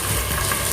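Uncooked rice added to a hot frying pan with lightly fried onions gives off a steady, close hiss and sizzle that carries on evenly through the short moment.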